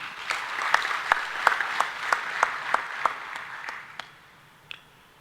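An audience at a members' meeting breaks into sustained applause, a broad wash of clapping with a few sharp, louder claps standing out at a steady pace before it fades.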